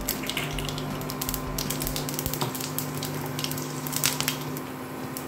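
Mustard seeds and split urad and chana dal sizzle in hot refined oil in a pan for upma, a steady loud crackling fry with scattered pops and a faint hum underneath.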